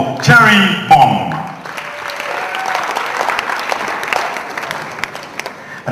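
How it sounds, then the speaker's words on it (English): An event audience at a product launch breaks into applause, a loud burst with a compère's voice announcing over the first second, then settling into steady, sustained clapping. "And a warm round of applause for Cherry Bomb."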